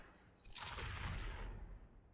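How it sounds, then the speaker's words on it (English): A muffled, rumbling explosion in the video game Destiny 2, swelling suddenly after a quiet start into a broad burst of crackling blast noise that slowly fades away, fairly faint overall with no speech. "Are we done with explosions? Yep, we are done with explosions."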